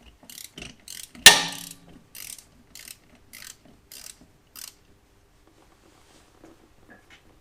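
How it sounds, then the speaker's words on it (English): A ratchet with an H10 hex bit clicks in short bursts while cracking loose the drain plug on a ZF 8HP eight-speed transmission of a Range Rover L322. One sharp crack is followed by several brief ratcheting bursts, close and alone. "we can crack off the drain plug, which on this one is a H10 hex bit."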